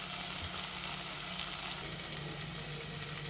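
Spices frying in onion paste for a mutton dish, a steady, even sizzle that holds at a constant level throughout, close and with no talking.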